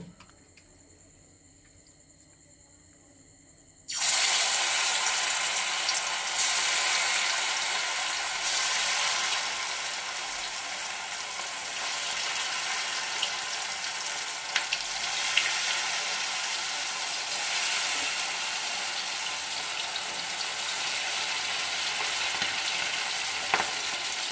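Marinated chicken pieces dropped into already hot oil, the sizzle bursting in loud after a quiet start and then holding as a steady, crackling fry close by.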